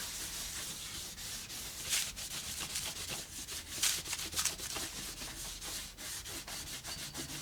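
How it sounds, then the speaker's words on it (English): Leftover paper is trimmed into postcards, producing a faint, continuous scraping and rubbing with occasional sharper swishes, close by and without talk. "A little bit of this is going to get trimmed off on each one of them"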